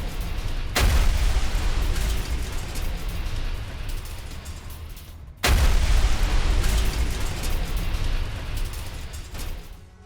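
Howitzer artillery fire in war news footage: two heavy booms, each with a sudden onset and then a long rumbling roar that fades slowly, loud and distant-sounding.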